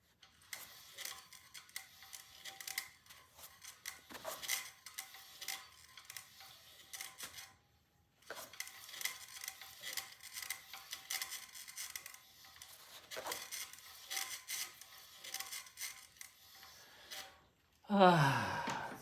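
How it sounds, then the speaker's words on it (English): Brake pads on a vintage British motorcycle rub lightly against the brake disc as the wheel is spun by hand, giving faint, repeated scraping and ticking bursts that fade and return, with a brief pause and a louder clatter at the end. "The grinding noise, grinding, is actually just the brake pucks in here, just slightly rubbing the brake disc."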